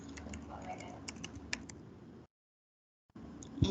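Fingers type a WPA2 wifi passphrase on a computer keyboard, a run of quick, close taps over faint background hum, stopping abruptly and resuming briefly near the end.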